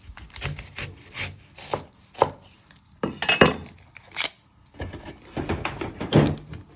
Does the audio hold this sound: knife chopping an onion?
yes